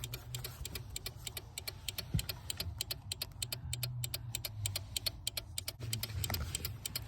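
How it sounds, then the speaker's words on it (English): A hazard light relay in a Nissan S13 240SX clicks rapidly and evenly in a fast hyper-blink rhythm, close and clear over a low engine or cabin rumble. "I'm gonna turn my hazards on and just follow the clicking sound"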